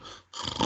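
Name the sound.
voice imitating a prolonged snore after a breathing pause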